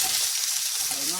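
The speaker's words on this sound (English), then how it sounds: "Nice sizzle there." Tomatoes drop into hot oil in a pan over medium-low heat, giving a soft, steady hiss of frying that runs briefly under a quiet voice.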